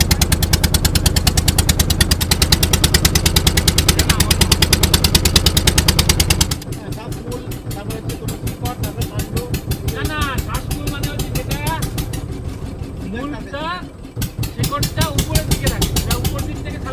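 A motorboat on a pleasure ride along a white-sand sea beach near Kolkata, its engine throbbing in a loud, steady, rapid pulse close by, easing slightly partway through but never stopping.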